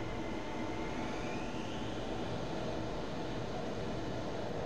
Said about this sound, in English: You can hear the engines winding up